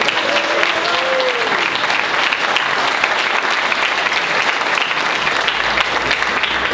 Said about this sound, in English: So what about a round of applause for Anthony Fowler?